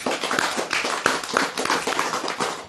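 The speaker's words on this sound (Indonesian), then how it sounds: "Tepuk tangan." A small group claps in a loose, uneven rhythm, a handful of distinct nearby claps spaced out over a few seconds rather than a full ovation.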